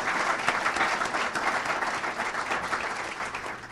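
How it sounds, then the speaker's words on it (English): A crowd of press conference attendees breaks into steady, dense applause for committed staff as a new athletic director is announced, continuous and fairly loud throughout with no talking over it. "So let's give them a round of applause."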